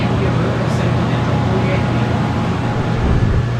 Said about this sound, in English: that's aircon, you cannot sleep in that